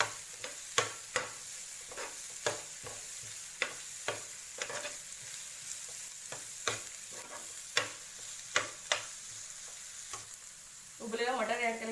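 Tawa pulao mixture being stirred and scraped on a hot griddle, Mumbai street-food style, with red chili and turmeric added; steady sizzling hiss under repeated sharp spatula scrapes in an uneven rhythm, close and clear, with no talk.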